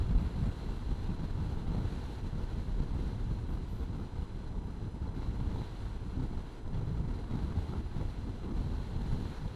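Heavy wind buffets the microphone while riding a motorbike on a Mindoro loop road, a constant low roar with no voices.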